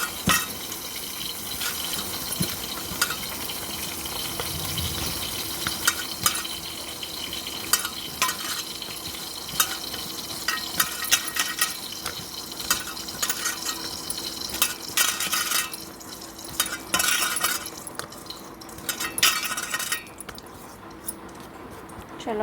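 Fish pieces are worked together with spices by hand, giving soft wet squelching and slapping sounds in an irregular rhythm, close up, with faint kitchen noise around and no talk.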